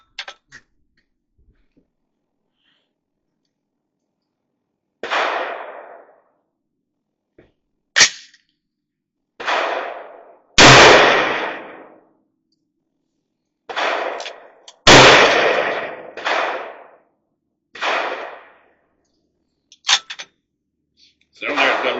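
Reloaded 300 Blackout rifle rounds fired outdoors in cold, windy snow: about a dozen sharp, loud single gunshots spaced a second or several apart, each with a short decaying boom, and no talking in between.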